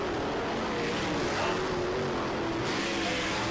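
USAC race cars at speed on the Terre Haute Action Track dirt oval, a continuous loud engine roar with a wavering pitch as the cars drive off the corner, dense and sustained without talk.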